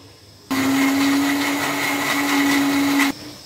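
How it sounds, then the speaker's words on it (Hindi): A mixer grinder runs on almonds and water for a paste, a loud steady whirring roar that starts abruptly, holds for about two and a half seconds, then cuts off. "वो बादाम डाल दिए, तो अब इसको ग्राइंड करेंगे।"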